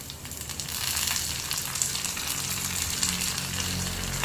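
Mustard seeds, shallots, dried red chilli and curry leaves frying in hot oil for a tempering, giving a steady, loud, close sizzle and crackle that continues throughout without any talk.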